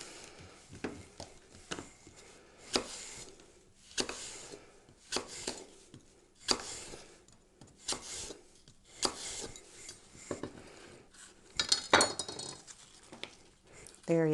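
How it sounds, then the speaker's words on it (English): A knife slicing through a fresh apple on a cutting board, producing a series of irregular crisp cuts and scraping strokes with soft thuds, fairly quiet and close. "I'm going to slice up a few apples"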